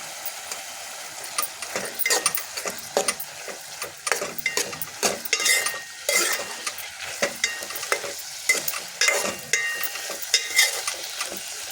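Ridge gourd and bean curry is stirred in a frying pan, repeated scraping strokes of a spoon over a continuous crackling sizzle, close and steady.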